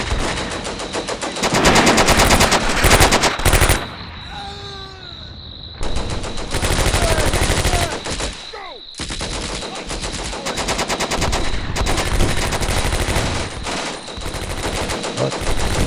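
Machine-gun fire from a WWII tactical war game, Combat Mission: Beyond Overlord: loud, rapid sustained bursts that stop briefly and then resume, with no talking.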